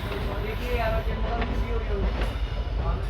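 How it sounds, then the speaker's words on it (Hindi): A MEMU electric commuter train passes on an adjacent track in India, a steady loud rumbling roar with rail clatter, heard close up from aboard another moving train throughout. "इस तरफ से कोई ट्रेन आ रही है, मेमो ट्रेन है, ये मेमो निकल रही है ट्रैक से ओनली।"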